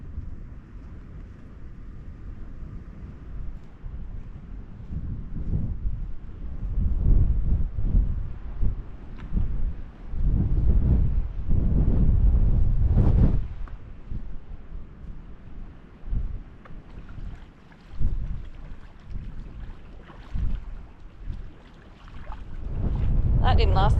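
Strong wind buffets a free coastal campsite at Baird Bay, roaring in loud low gusts that swell and ease against the microphone, with people talking at times beneath the rumble.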